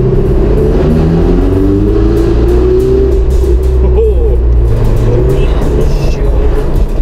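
A Ferrari engine roars loudly and continuously, its pitch rising and falling with revs, echoing inside a tunnel, with voices faintly beneath.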